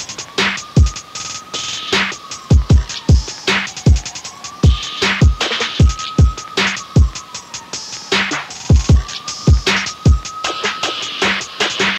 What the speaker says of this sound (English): Now I want you to make a drum pattern that sounds like this.